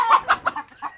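A small bantam hen clucks in a homemade henhouse, several short close clucks in quick uneven succession, with no other sound.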